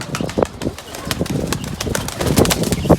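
Pigeons coo and rustle nearby, with soft wing flutters and scattered bird noises repeating throughout at close range.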